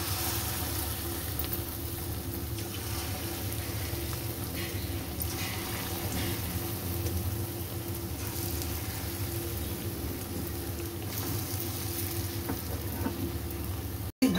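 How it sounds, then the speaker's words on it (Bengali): Gram flour fritters fry in a pan of hot oil with a steady, unbroken sizzle and crackle lasting throughout, fairly close and even. "এবার আমি বেসনগুলো দিয়ে বড়া ভেজে নেব।"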